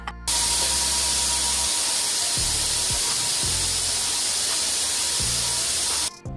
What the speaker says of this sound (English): I made sure I primed the cabinets before we took our sprayers to it